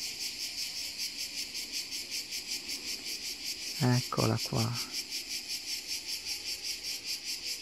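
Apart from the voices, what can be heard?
cicada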